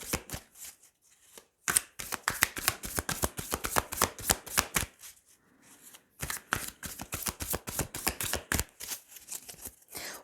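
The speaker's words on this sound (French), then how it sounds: "Allez, on va tirer 3 cartes." Tarot cards being shuffled and drawn, close and crisp, in rapid bursts of riffling flicks with a short pause in the middle before another long run of snapping cards.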